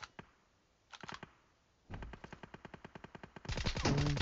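Automatic gunfire in the shooter PUBG: a few single shots, then a rapid, evenly spaced burst and a louder dense volley at the end, fairly close and crisp.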